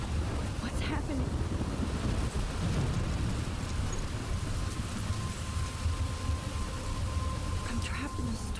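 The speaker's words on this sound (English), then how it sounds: "I'm trapped in a storm?" Steady rain and a thunderstorm from the video game Life Is Strange, a constant dense wash of rainfall with low rumbling, continuous and fairly loud throughout, with no talking.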